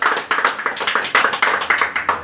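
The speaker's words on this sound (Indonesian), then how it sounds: "Tepuk tangan dulu buat Tuhan." A church audience claps in a quick, steady rhythm, a dense run of sharp hand claps that holds at a loud level with no talk.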